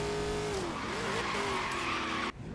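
A Dodge Viper races and skids in Forza Horizon 3, its loud engine droning under sustained squealing tires that rise and waver for about two seconds before cutting off abruptly.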